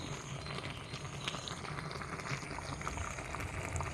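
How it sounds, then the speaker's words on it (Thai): A pot of fish curry with pickled bamboo shoots bubbles at a steady rolling boil, a dense continuous gurgling and hissing close by, with no voices. "ฟังเสียงเดือดนะคะ"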